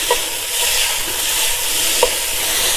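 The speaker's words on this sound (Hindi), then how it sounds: "अब आपने इसको सौते कर लेना है, इस तरह से मिक्स कर लीजिए अच्छे से नूडल्स को" Chow mein noodles with chicken sauté in a hot pan, a steady close sizzle of frying under two sharp scrapes of a utensil stirring and tossing them, no voices.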